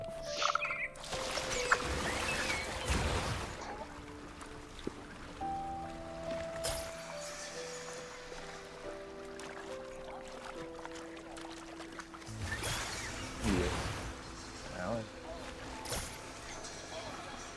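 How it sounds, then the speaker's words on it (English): A large waterfall in the video game Wuthering Waves rushes in the background while game music plays and a person talks over it. "That's a really big waterfall."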